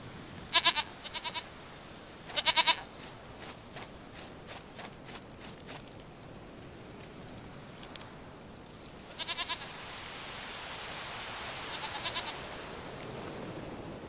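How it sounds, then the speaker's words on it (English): A goat in The Witcher 3 gives short bleats, two close together early and another a few seconds later, each faint and brief over a quiet outdoor game ambience with soft footsteps. "Goat of mine, dearest, sweetest goat."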